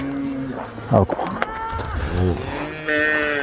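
A cow lows in drawn-out, tonal calls during milking, one early and another rising near the end, with rustling and handling noise close by.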